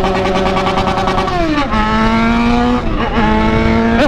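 A Yamaha XJ6 motorcycle engine that has not been running well revs up close and loud, its droning pitch dropping, then climbing again, with a second dip and rise near the end.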